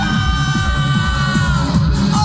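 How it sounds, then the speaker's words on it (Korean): Festival crowd at a Christmas first-snow street festival in Geoje Gohyeon cheering, whooping and shouting in a dense, steady roar over a thumping beat, loud and sustained throughout. "크리스마스를 앞두고 있는 우리 가족의 여러분들의 함성 소리 들어보겠습니다"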